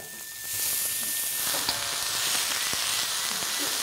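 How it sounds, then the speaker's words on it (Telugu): Chopped onions frying in oil with mustard seeds and curry leaves for a Telugu okra curry, a steady close sizzle that swells in after a quiet start, with a few faint clinks. "ఉల్లిపాయలు బాగా వేగాలి బాగా వేగింది"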